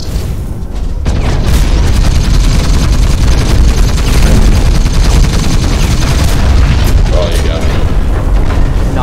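Heat cannon fire and grenade explosions in the mech shooter video game Hawken come as a loud, continuous barrage of booming blasts and rapid shots. Voices talk over the combat throughout.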